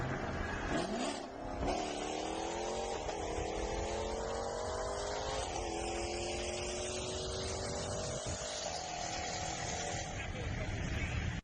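A Jeep Trackhawk revs hard, its supercharger whining in rising steps over a throaty, ripping exhaust, loud and close throughout with voices talking beneath.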